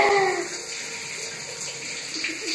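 Shower water pours steadily during a small child's bath at home, a close, even splashing hiss that runs throughout without a break.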